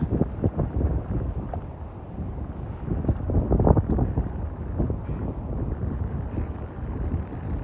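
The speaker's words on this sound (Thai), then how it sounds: "ลมแรงมากเลยนะคะ" A strong, dry wind blows outdoors in a village, buffeting the microphone with loud, continuous gusts and low rumbling bursts.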